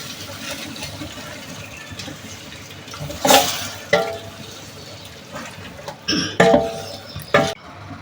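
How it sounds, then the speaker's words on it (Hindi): Tomatoes and chicken frying in a pot for a Muharram niyaz dish, heard as a soft low simmer and sizzle broken by several louder spoon scrapes and clanks against the pot, with no talking. "अब इसको ऐसे भूनते रहेंगे यहाँ तक कि सारे टमाटर घुल जाएं"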